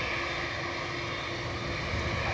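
United airliner taking off from Dublin Airport, a steady, distant engine roar holding constant throughout, with no voices.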